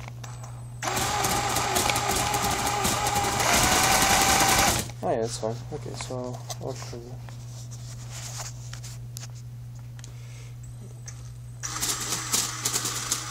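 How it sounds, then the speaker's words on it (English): A drill-turned K'nex four-cylinder inline DOHC model engine whirs and clatters loudly in a dense mechanical buzz that drops off after a few seconds and then returns. A steady low hum sits underneath, and a person talks briefly in between. "Listen to the engine. It sounds kind of like your engine when you just started up and it's so cold."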